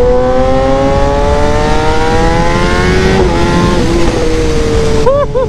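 A Kawasaki ZX10R superbike engine revs loudly and close, its tone climbing steadily through the gears over several seconds before a sharp burst of rapid revs at the end.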